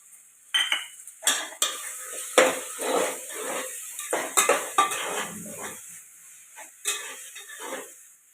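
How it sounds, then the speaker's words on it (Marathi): Green peas tipped into a home-kitchen pan of veg pulao already holding French beans and capsicum, with a run of close metallic clatters, scrapes and stirring knocks of a utensil against the pan, loud and irregular throughout. "आणि आता हे मटार टाकते."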